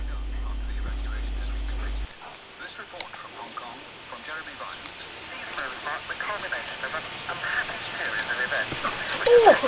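A dog riding in a cart gives soft whimpers and small yips, faint and intermittent against low background noise, growing a little more insistent toward the end.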